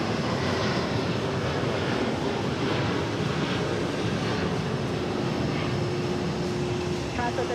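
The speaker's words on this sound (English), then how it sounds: "that's Delta Flight 286 heading off to Milan, A330-300" A Delta Airbus A330-300 airliner departs JFK on a flight to Milan, giving a sustained, loud engine roar with a steady tonal hum. The roar stays even throughout and is mixed with some outdoor wind-like rush.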